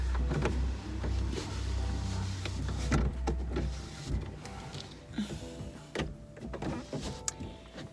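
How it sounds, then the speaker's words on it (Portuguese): Car power windows close from inside the vehicle with a low continuous electric motor hum for about four seconds, followed by faint clicks and thumps as the cabin quiets. "Fechei as janelas do carro"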